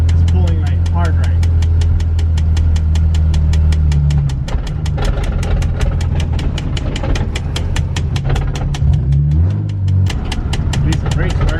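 An LS-swapped Nissan 350Z drift car engine runs loudly with a dense, rapid rattling and clattering throughout, the engine note shifting as it pulls, with voices talking over it.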